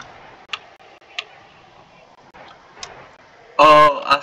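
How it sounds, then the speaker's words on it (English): In the Phasmophobia Christmas event, an alarm clock gives a few sparse ticks, then blares a loud, harsh ring that cuts off after about half a second, with a brief further burst. "there was an alarm clock on the thing and it went off."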